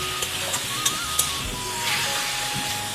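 Taro leaves stirred with spices in a hot pan for an ilish fish dish, a constant close sizzle and hiss with a few light scraping stir strokes.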